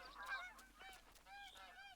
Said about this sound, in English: Where'd the geese go? I saw them land here.